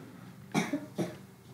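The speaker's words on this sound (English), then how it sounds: "In the background, coughing and stuff." Two quick muffled coughs from someone with a cold sound a moment apart in the background of a quiet room.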